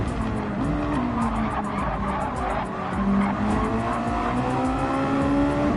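Mazda Miata race cars in a sim racing game at the Nürburgring, engines droning steadily while tires squeal in long rising and falling skids, loud and continuous throughout.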